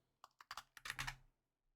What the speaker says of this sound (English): I'm typing what you type.